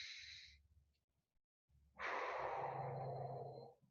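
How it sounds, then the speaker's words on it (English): A person doing a core exercise breathes out deeply, a short airy exhale followed by a pause and then a longer, stronger breath out, close and clear with no talking. "Deep breath in. Get all your air out and pause and come down."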